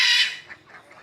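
A goose and a flock of Vigova ducks on a farm call out: one loud, harsh honk up close, followed by a few fainter, softer quacks trailing off.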